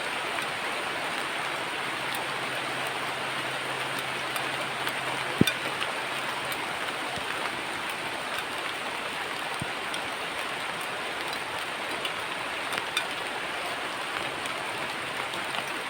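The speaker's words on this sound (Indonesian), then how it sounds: "Biarkan hujan turun, kita nikmati aja." Heavy rain pours steadily at a campsite, a dense, unbroken hiss of drops on surfaces lasting throughout, with one brief sharp knock partway through and no voices.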